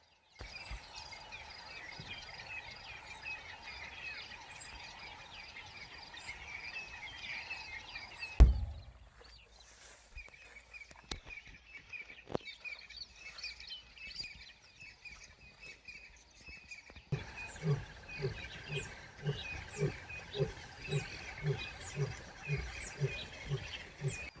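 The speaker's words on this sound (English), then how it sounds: "you'll hear how beautiful the bush sounds waking up" Layered birdsong and chirps fill an open outdoor soundscape in the African bush at dawn, with steady calls throughout and a quieter middle stretch before the chorus picks back up.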